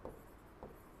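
Writing during a Hindi-language lecture on Indian fundamental rights: two short, faint scratchy strokes close by, with no talk over them.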